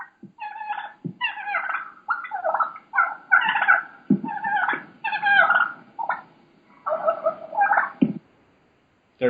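A wild turkey hen calls in a series of short, raspy yelps grouped in rhythmic bursts with brief pauses, clear and fairly close against a quiet background.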